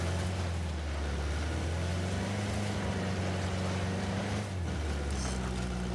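A vehicle engine hums in a continuous low drone while driving in the video game Uncharted: The Lost Legacy, with steady road rumble and no speech.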